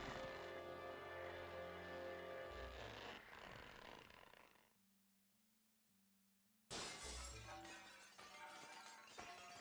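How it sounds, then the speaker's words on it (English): Glass shatters with a bright, crashing burst in The Wind Waker randomizer video game, preceded by a ringing tonal game sound, a near-silent gap, and then another loud breaking crash with scattered tinkling debris. "Time for some shattering glass sounds."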